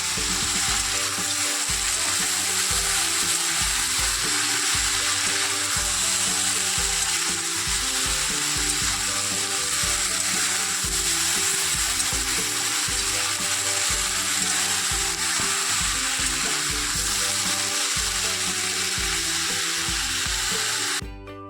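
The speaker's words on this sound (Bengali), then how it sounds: "তরকারিটি এখন বানানো হচ্ছে, সেই সমস্ত সবজি দিয়ে পরে তরকারিটা বানাচ্ছি।" Vegetable curry frying in a pan, a steady, loud sizzle running without a break for about twenty seconds, with occasional stirring scrapes and no voices.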